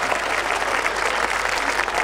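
Steady, dense applause from a large audience at a Hindi kavi sammelan poetry evening, even and sustained with no pauses and no speech over it.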